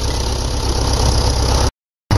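A tractor engine runs in low range while fence wire is being tensioned, a loud, steady close-up rumble with a regular low throb. It cuts out abruptly for a moment near the end, then resumes.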